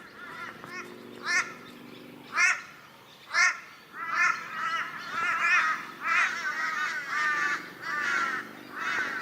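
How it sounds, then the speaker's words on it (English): Several harsh, throaty raven caws ring out in Australia, first singly, then overlapping in a noisy chorus, moderately close with no voices. "They're actually ravens, but anyway, we call them crows."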